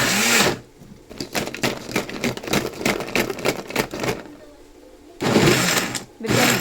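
A blender whirring through a guyabano shake made with condensed milk, heard as choppy, pulsing bursts with stuttering start-stop rhythm, loud and close, with a brief pause before a final strong burst of blending.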